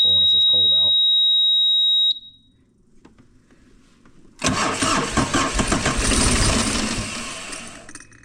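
A vehicle engine is started in cold weather. A short piercing electronic beep sounds and a voice speaks briefly, then after a faint lull the engine cranks and catches, roaring loudly up close.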